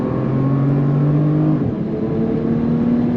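A 2022 Bentley Continental Speed pulling out of a corner on a race track under power, its engine droning loudly and steadily with a clear shift in pitch partway through, heard from inside the car.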